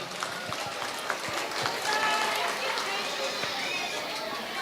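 An audience at a school annual function gives a round of applause for the Little Champs teachers, a moderate crowd clapping with chatter and voices mixed in, fairly even throughout.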